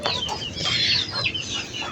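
Chickens cluck and murmur at close range in a home yard, with a steady run of throaty clucks and brief squawks and no one speaking.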